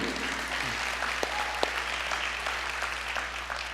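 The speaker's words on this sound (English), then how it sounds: "I love that you guys clap when the lights come up." Church audience clapping steadily as the stage lights come up, a dense, even wash of applause with a few sharper claps standing out, heard over a low steady hum.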